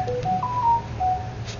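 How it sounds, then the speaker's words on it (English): A phone gives a short, close electronic notification of a few clear tones in quick succession over a low background hum. "Okay, phone. Chill."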